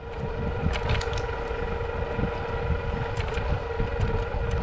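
Jupiter Discovery X5 electric folding bike carrying a 205-pound rider on throttle alone at about 15 mph on a road, a steady rushing of wind and motion noise over a faint motor tone throughout, with no speech.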